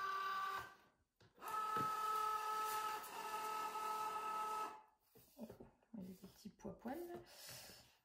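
A Cricut cutting machine feeds vinyl through to measure its length, a steady mechanical motor whir with tonal hum running for several seconds, then stopping as someone speaks.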